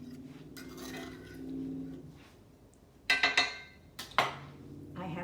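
Roasted potatoes are tossed with honey in a pan, giving a run of close metallic clinks and scrapes of a utensil against the pan that follow a stretch of soft speech.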